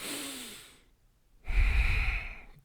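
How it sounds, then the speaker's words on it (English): Slow, deliberate breathing exercise: a long audible exhale trails off into a pause, then a deep, forceful breath follows close to the microphone, with no talking. "breathe in, breathe out. Make sure you breathe all your air out."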